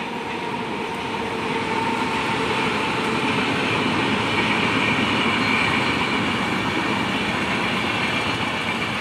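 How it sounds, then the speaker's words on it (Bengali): The Kolkata–Jammu Tawi Express runs along the chord line, a loud continuous rumble of wheels and carriages passing close by without pause, with no speech. "কর্ড লাইন দিয়ে একটা ট্রেন যাচ্ছে"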